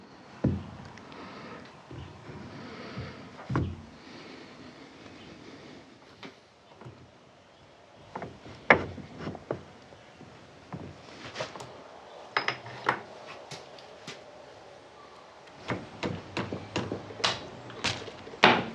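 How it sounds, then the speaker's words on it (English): A Series 1 Land Rover transfer box intermediate gear being lowered into place, with scattered metallic clunks, knocks and scrapes of heavy steel parts close by, busier toward the end, and no one speaking. "now we gently lower in our intermediate gear with the large cog facing forward"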